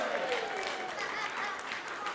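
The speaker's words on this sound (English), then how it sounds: "can we have a round of applause?" An audience at a talk on humanism breaks into steady applause, a continuous patter of many hands clapping at moderate distance with some crowd murmur mixed in.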